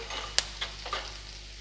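Onion and capsicum being stir-fried for chilli paneer, a few soft scrapes and stirs of a spatula in the pan over a quiet, faint sizzle, with no talking.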